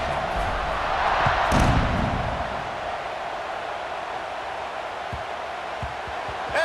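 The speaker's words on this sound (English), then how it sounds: "this crowd is feeling themselves after that last drive" A stadium crowd in EA Sports College Football 26 roars in a broad, steady wash of cheering during a kickoff, swelling briefly near the start and then holding as a constant distant din.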